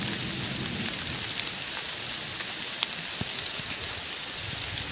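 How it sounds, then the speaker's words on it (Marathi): Heavy monsoon rain pours steadily on a Konkan riverside during the first rain of the season, a dense continuous hiss with occasional close drops pattering on surfaces. "पाऊस पण पडतोय मंडळी जोरात"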